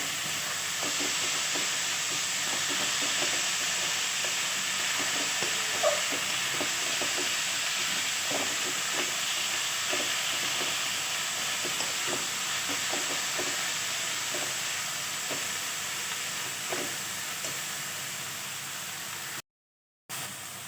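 Boiled banana flower being stir-fried in a pan for a Bengali mochar ghonto with ginger, onion, garlic and cumin, giving a steady sizzle and hiss with repeated soft scraping stirs throughout, close and alone.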